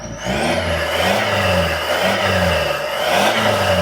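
A Batmobile replica street car revs its engine in repeated surges, three or four rising and falling roars with a high turbine-like whine, close and loud with no talking.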